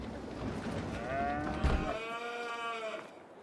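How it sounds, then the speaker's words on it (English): A cow on a cattle ranch in a farming simulation game gives one drawn-out moo, with a low mechanical rumble in the background that drops away partway through. "Cow's got plenty of food and straw."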